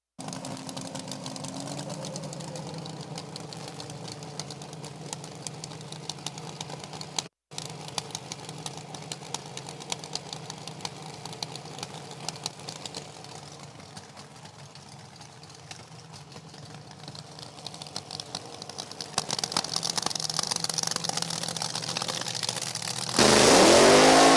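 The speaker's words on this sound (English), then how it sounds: "Short and sweet in the burnout department." An injected alcohol dragster doing a short burnout at an NHRA Division 4 drag race at No Problem Raceway, a sustained distant engine roar that swells into a louder blast at the end, with no talking.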